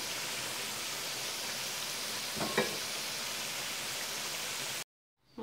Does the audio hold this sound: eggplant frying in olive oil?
yes